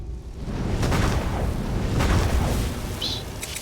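Fire Breath shout in Skyrim: a loud, sustained roaring rush of flame over a rumbling low end, with a short high chirp near the end.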